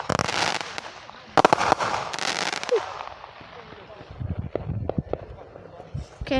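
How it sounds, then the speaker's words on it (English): Fireworks explode close by in a July display, a series of sharp, loud bursts crackling in clusters with pauses between; people cheer and talk in between the blasts. "That's the thing about the fireworks."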